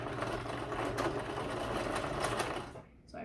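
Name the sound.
sewing machine forward stitching on t-shirt fabric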